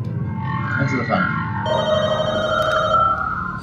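A telephone rings in the video game The Walking Dead: Michonne, its tonal ring rising over a low rumbling ambience and repeating through the second half at fairly close, loud level.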